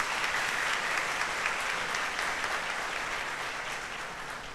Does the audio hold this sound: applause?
yes